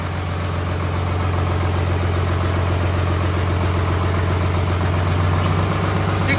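A boom truck's heavy inline diesel engine idles steadily up close, a low throbbing rumble with a constant mechanical clatter and no voices.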